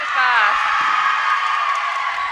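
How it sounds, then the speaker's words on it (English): A crowd at a trampolining competition shouts and cheers loudly and continuously, with high voices and whoops filling the hall in a dense, sustained roar. "you can hear the crowd shouting from here to say go on after he's done the Trampoline"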